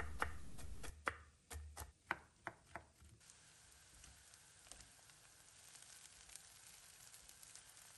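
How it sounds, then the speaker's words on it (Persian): A cleaver chops walnuts on a board in about eight sharp, crisp knocks during the first few seconds, then quiet kitchen background with faint ticks. No talk. "گردو رو ساتوری میکنیم جوری که زیر دندون احساس بشه"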